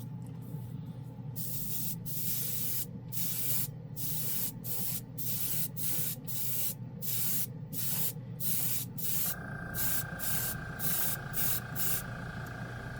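An airbrush sprays matte green paint onto a spoon in repeated hissing bursts, each a few seconds long with short gaps, close and steady, and the tone shifts slightly partway through.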